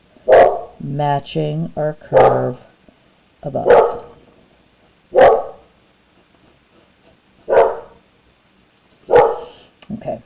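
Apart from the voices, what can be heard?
dogs barking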